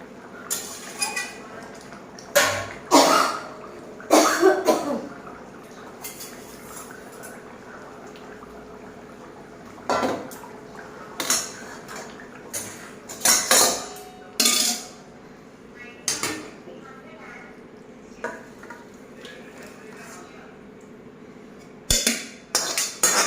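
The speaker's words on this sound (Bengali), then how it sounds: "বাসন একবারে মেজে নেবো" Pots, dishes and cutlery being scrubbed and washed after cooking, with repeated close clanks and clatters in irregular bursts over running, splashing water.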